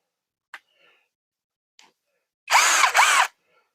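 A new cordless screwdriver fitted with a bit runs in reverse in two short whirring bursts, close and fairly loud, after a few faint clicks and handling noises.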